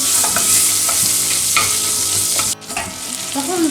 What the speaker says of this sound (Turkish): Üzerine yarım çorba kaşığı salçayı koyup bir müddet pişiriyoruz salçayı da.